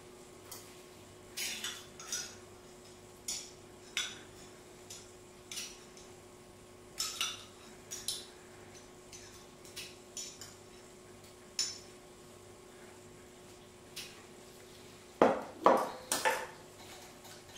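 A utensil stirs strawberry purée for macarons in a bowl, giving scattered, light clinks and taps against the bowl that come in small clusters, close and quiet, with a denser flurry near the end.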